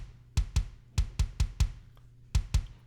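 Eight sharp, punchy kick drum hits, dry and isolated, playing a quick syncopated pattern with short gaps between them.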